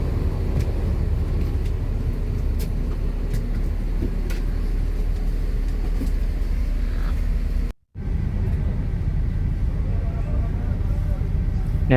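An Agra Mas Grand Captain intercity bus cruises along a toll road at night, giving a steady, loud engine and road roar from inside the cabin that drops out briefly before resuming.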